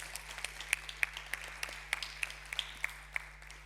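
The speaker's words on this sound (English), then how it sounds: "Round of applause, please." Audience applause at a young water professionals' debate event, a light smattering of individual claps with distinct sharp peaks, moderately quiet and fairly close, over a steady low hum.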